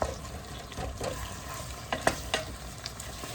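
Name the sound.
ground beef frying in a pot for chili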